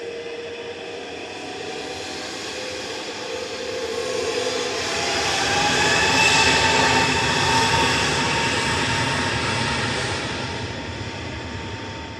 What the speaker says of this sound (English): out next is Jet 2's A321neo G Sun H. Heading off to Ibiza with flight 825.